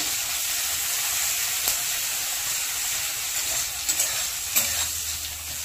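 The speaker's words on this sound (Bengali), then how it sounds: "পেঁয়াজটাকে একটু হালকা কালার আসা পর্যন্ত একটু ভেজে নিতে হবে।" Onions fry in a pan until lightly coloured, for a pumpkin, potato and prawn dish, a continuous close sizzle with occasional clicks and scrapes of stirring and no talk.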